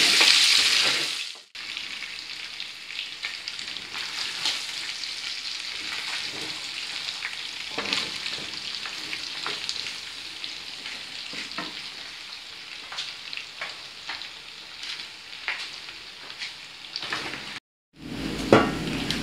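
Ripe and green plantains fry in hot rendered fat in a pan, a steady close sizzle running throughout with scattered utensil clinks and stirring scrapes, with a brief pause near the end and no talking.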